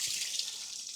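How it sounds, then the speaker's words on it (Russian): Water draining from a campervan tap at a dump station, a steady hissing gush of fairly quiet, continuous flow with no voices. "открываем кран"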